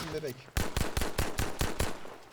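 Rapid automatic gunfire in Battlefield V, a quick burst of about eight sharp shots in steady rhythm, loud and close, following a brief murmur of voices.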